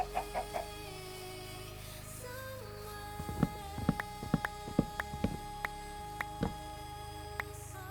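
Clucking of a Minecraft chicken, a string of short sharp pecky calls bunched in the middle of the stretch over a steady game music bed, fairly close and clear.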